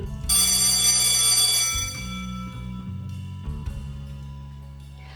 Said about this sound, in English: The class bell rings, disrupting the moment and snapping everyone back to reality.